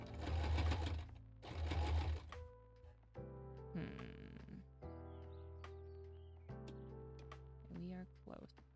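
A sewing machine stitches cosplay fabric in two short loud bursts near the start. After them come softer clicks, fabric handling and a few brief mechanical sounds. The fabric is puckering.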